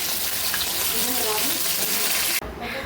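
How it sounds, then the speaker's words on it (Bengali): Rohu fish fries in a pan with a loud, dense sizzle that runs steadily and then drops off sharply near the end. "মাছটাকে ভালো করে ভেজে নিচ্ছি, আর এদিকে করেছি ঝুরঝুরে আলু ভাজা।"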